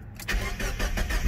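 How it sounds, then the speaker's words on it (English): A Mazda Miata NB cranks and fires right after its battery was reconnected, a short loud engine start settling into a steady run. "make sure the car starts because I did just put the battery back"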